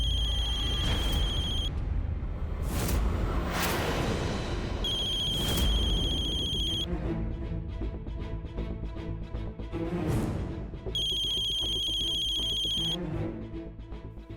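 A telephone rings indoors in repeated bright electronic bursts with short gaps between them, loud and close, while a dramatic music score plays underneath.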